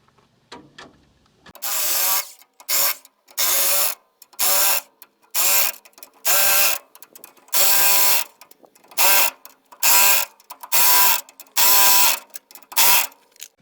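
Ratchet wrench snugging the U-bolt nuts on a utility trailer axle, heard as about ten close, loud bursts of rapid clicking separated by short pauses, with no talk.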